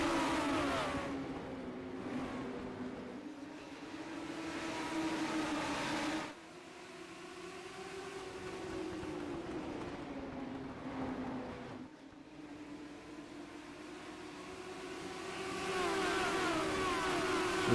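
Legends race cars in iRacing racing at South Boston, a continuous droning engine note that rises and falls as the cars accelerate and lift through corners over several laps, steady and fairly loud with no talking.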